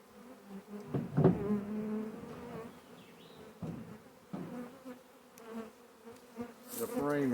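A honey bee swarm hangs on a trap and buzzes in a steady hum, with individual bees droning loudly past the microphone in short swells and some handling knocks and rustles.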